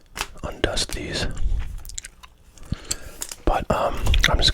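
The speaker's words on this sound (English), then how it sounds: "But I'm just going to be chewing some gum." Close, wet gum chewing with crisp smacking and clicking mouth sounds in irregular bursts, alongside soft whispered talk and faint handling noises.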